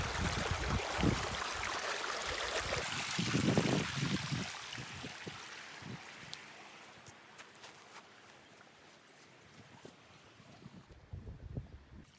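A river flows with a broad, rushing wash of water that is loudest at first and then fades to a softer trickle, with some wind buffeting and a few faint knocks but no talk.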